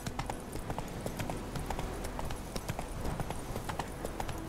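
Hooves of Roach, the horse in The Witcher 3, beat out a steady, rapid galloping clip-clop over a dense ambient game background, continuous and evenly paced.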